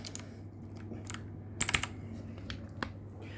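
A mechanical keyboard fitted with Cherry MX Blue switches is typed on in an irregular run of crisp, clicky keystrokes, close and fairly loud, with a brief cluster of louder presses in the middle.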